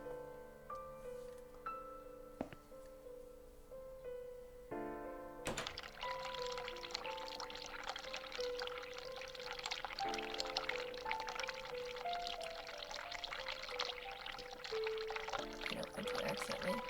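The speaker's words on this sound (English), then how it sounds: "Turn on water, cold water, hot water, tap off." Tap water runs into a sink in the video game The Cat Lady, starting abruptly after a quiet tonal musical passage and continuing as a steady, bright pouring stream to the end.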